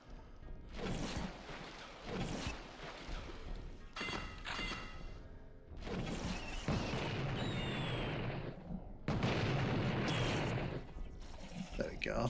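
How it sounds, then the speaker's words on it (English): Napalm launcher in the shooter game Blood firing, with repeated loud whooshing blasts and booming explosions that fill the scene in long, dense bursts, with a voice talking over parts of it. "napalm launcher"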